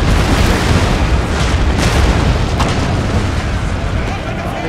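Artillery fire in Napoleon: Total War booms through a dense battle din, heavy blasts and rumbling bursts piled on a loud continuous roar.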